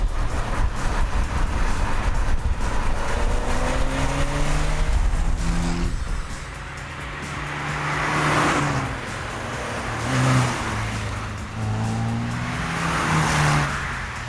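A Peugeot 205 GTI hot hatch drives along, its engine a steady drone that rises and falls through gear changes, moderately loud with no talk.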